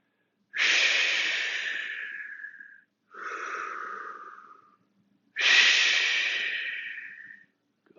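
Three loud, close breaths during a fitness class exercise: two long breathy exhales and a shorter one between them, each separated by brief silence.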